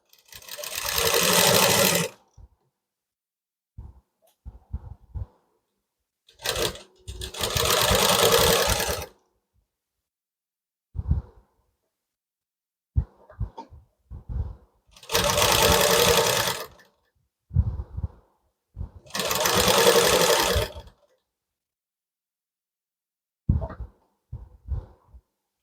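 A domestic sewing machine stitches a blouse neck in four loud, clean whirring bursts of about two seconds each, separated by quiet pauses with faint handling clicks and no talking.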